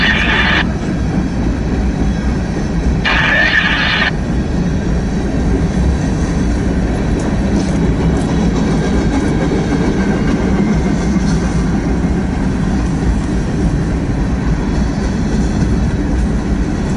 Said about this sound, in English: This is definitely a cool train.